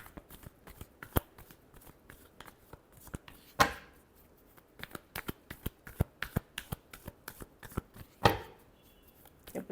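A deck of tarot cards is shuffled by hand in quick, dry riffling bursts, with irregular flicks and two louder snaps along the way, close up and quiet, with no voices.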